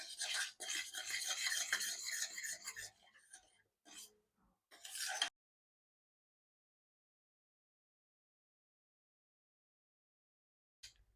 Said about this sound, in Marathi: एकसारखं फेटत राहायचं.